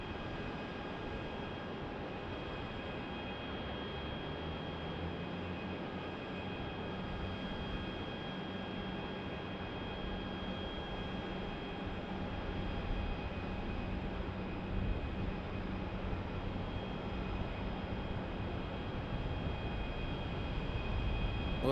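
A diverted Boeing 777 airliner on the ground at Phoenix airport gives off a quiet, steady engine hum with a faint high whine, distant and alone, swelling slightly toward the end.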